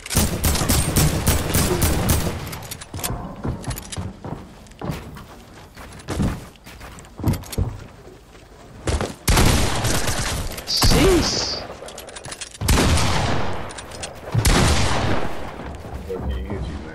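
Rapid bursts of video game gunfire and booms from a pirate-themed battle with a tank, loud and dense, with bursts separated by short pauses and voices talking in between.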